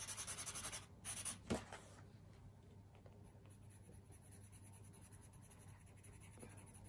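Coloured pencil rubbed back and forth on a blank sheet of paper to clean the tip, a quick run of scratchy strokes at first, then a softer, steadier rubbing that continues faintly and close by.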